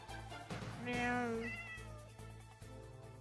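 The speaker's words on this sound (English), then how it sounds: "Cat noise." A gray cat meows once, a clear rising and falling cry up close, with faint voices and steady low background hum around it.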